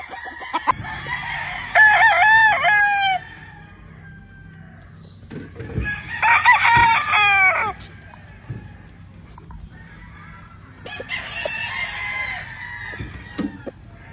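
A gamecock rooster on a California farm crows three times in long, loud, strained calls spaced a few seconds apart, with quiet gaps between them.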